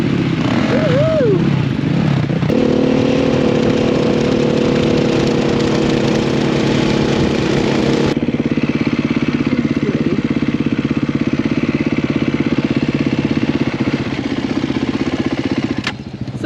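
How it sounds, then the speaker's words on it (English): A rally motorcycle riding in the Qatar desert, its engine droning loud and close throughout as a steady mid-pitched roar with a slight shift in tone partway, with no talk over it. "You know how to ride a bike, Vanessa, so let's just ride a bike"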